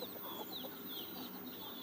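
Native country chickens cluck softly and intermittently in a garden grove, the calls faint and distant over a steady ambient hiss.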